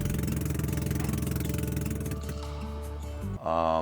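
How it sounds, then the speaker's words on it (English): Boat engines on an island-hopping trip around Simunul in Tawi-Tawi, Philippines, run with a steady loud rumbling drone that changes pitch near the end as the throttle shifts, heard up close. "the engines haven't been running for a while, I guess"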